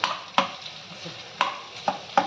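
Potatoes sautéed in oil for sabudana khichdi, heard as a low sizzle broken by a few sharp, close spatula scrapes at uneven intervals.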